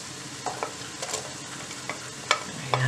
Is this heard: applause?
no